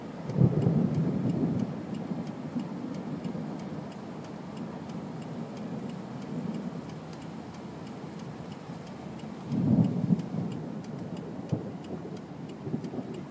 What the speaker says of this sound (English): the thunder there in the background for you